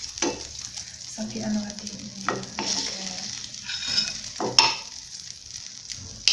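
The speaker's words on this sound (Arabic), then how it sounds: "انا دابا الكريمه ديالي كتذوب بهذا الشكل هذا" Butter melts and sizzles in a pan for an apple crumble, a steady close frying hiss broken by stirring scrapes and utensil clinks, with a voice speaking briefly.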